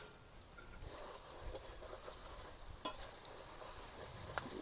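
South Indian mixture snack fries in hot oil, a steady low sizzle with soft bubbling and occasional stirring clicks, heard close with no talking.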